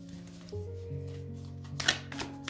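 Tarot cards being shuffled by hand: a short riffle of papery flutter rising to a brief burst near the end, over a steady background tone.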